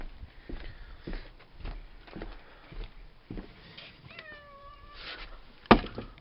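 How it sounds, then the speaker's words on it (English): A cat gives a short meow amid quiet outdoor rustling and soft footsteps, with one sharp knock near the end. "Oh, there comes the cat."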